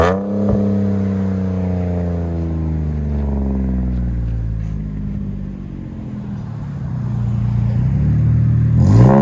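A 2007 Jeep Commander with a 3.7L V6 and Magnaflow Magnapack exhaust revs up and falls back, a loud, close, deep droning rumble rising and easing over several seconds before climbing again.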